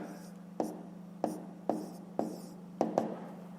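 A pen writes fractions on paper at a desk during a fifth-grade maths exercise, with short scratchy strokes and sharp taps in a quick irregular rhythm over a steady low electrical hum, close and clear.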